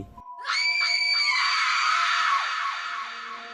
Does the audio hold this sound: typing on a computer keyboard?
no